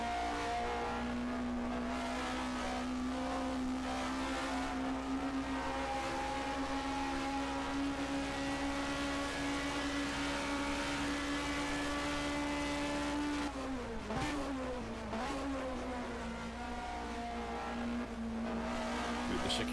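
Onboard engine of a 1980 DRM Division 2 race car at the ADAC-Preis von Baden-Württemberg, a steady loud drone held at high revs, dipping and snarling briefly as it brakes and shifts through a chicane.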